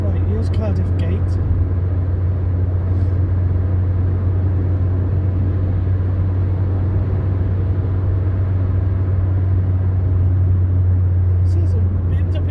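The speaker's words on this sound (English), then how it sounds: "See, there's a BMW 2 Series gone by." A BMW 2 Series passes on the road, its rumble rising through a constant low engine drone heard from inside a moving car, while a voice talks over it.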